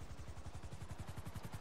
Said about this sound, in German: Der Heli landet auch noch einwandfrei.